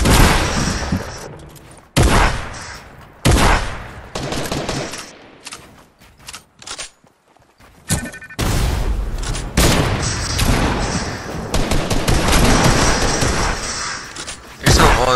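Heavy gunfire in a Fortnite match, loud sustained bursts of automatic fire and booming shots from an enemy team, with brief pauses between volleys.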